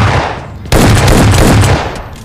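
Shotgun fire in a multiplayer shooter video game, with a loud sustained burst of blasts that starts abruptly and stays close and forceful throughout.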